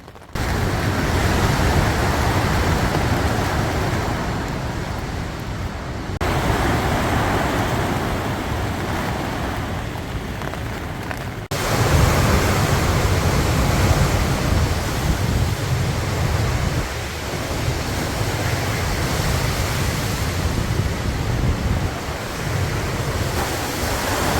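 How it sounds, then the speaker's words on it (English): Loud, roaring wind gusts blow steadily with a dense rushing hiss of rain on a tent at Wreckhouse, Newfoundland, surging and easing in long waves with no voices. "besides the rain and now the big gust winds"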